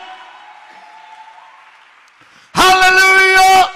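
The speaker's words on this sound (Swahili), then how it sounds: "Wangempigia Jehova na vigelegele vya shangwe, wangepiga vigelegele." A church congregation breaks into loud ululation and cheering during a sermon, a sudden dense burst of high trilling voices lasting about a second after a stretch of quieter speech.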